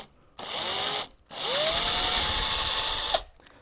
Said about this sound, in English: let me drill that pilot hole